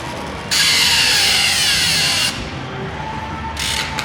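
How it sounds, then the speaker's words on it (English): A retractable drill whirs steadily for about two seconds at a sideshow, stops, then gives a shorter burst near the end, loud and close. "With the retractable drill."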